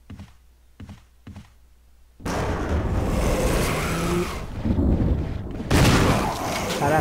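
Gunfire in the video game Resident Evil HD Remaster, three sharp shots in quick succession followed by loud, dense combat noise with heavy booming bursts and a continuous roar, mixed with game sounds.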